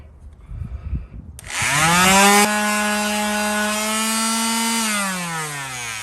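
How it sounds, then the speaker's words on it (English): A palm sander fitted with 400 grit sandpaper sands fiberglass gelcoat on a boat. After some brief handling noise it starts with a loud, steady motor whine that runs continuously at close range and slows slightly near the end. "Got the 400 grit sandpaper on my palm sander."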